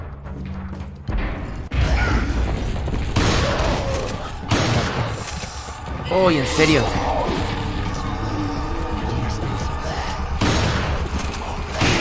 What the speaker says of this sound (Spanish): le pegué 4 escopetazos al candado y no se rompió